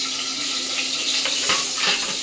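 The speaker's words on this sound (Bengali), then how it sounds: "শুকনো লঙ্কাটা ভালো করে একটু ভাজা ভাজা করে নেবো" Dried red chillies and mustard seeds crackle in hot mustard oil, a dense continuous sizzle heard up close with a few faint pops and stirring scrapes, and no talking.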